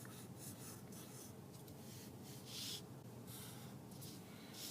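A pencil draws a frog on paper, giving soft, faint scratching and rubbing strokes in short bursts against quiet room hiss, close to the microphone.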